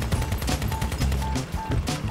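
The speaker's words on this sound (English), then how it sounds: "those machine guns are just badass" Vehicle-mounted machine guns in the combat game Crossout fire in rapid repeated bursts, punchy and close, with rumbling engine noise beneath.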